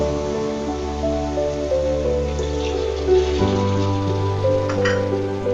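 Water poured into a pan of frying ginger and garlic paste, with a steady sizzle and bubbling hiss throughout and a sharper surge of sizzling partway through, close and moderately loud with no talking.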